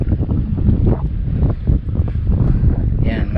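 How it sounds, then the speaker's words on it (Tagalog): Wind buffets the microphone while fishing for tilapia outdoors, a loud gusty rumble with irregular surges, and a brief voice-like sound near the end. "Ganda ng hangin."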